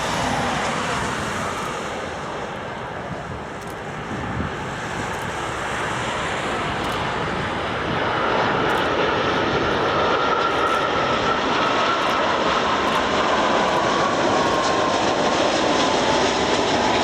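A fixed-wing airliner lands on runway 23 at Geneva Airport, a broad roaring engine and wind rush heard from a distance that swells louder and more sustained through the second half.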